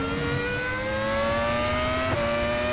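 Formula X-17 race car in the RaceRoom racing game accelerating hard, its engine note climbing steadily in pitch through the gears with a brief shift blip near the end, loud and continuous with no talk.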